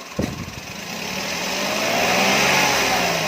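Toyota Agya car engine, checked for a rough noise, rises from a smooth idle into a steady rev after a short click, growing louder and holding a sustained drone at close range.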